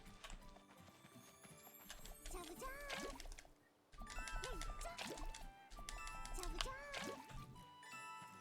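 Water drawn from a barrel in the game Atelier Lulua: short bubbly filling and sloshing effects repeat in a few bursts over steady game music with chimes, fairly close and clear.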